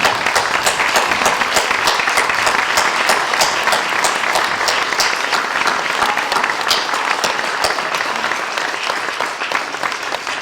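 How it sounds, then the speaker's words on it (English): Sustained loud applause from a large crowd, dense steady clapping that carries on for about ten seconds with no break. "I'd like you all to be upstanding and give a big round of applause to Srimati Sudhanu."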